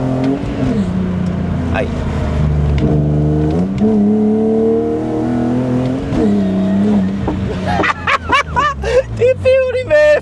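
A BMW E36 engine revs in steady, rising and falling surges, held loud and close, before a voice takes over near the end.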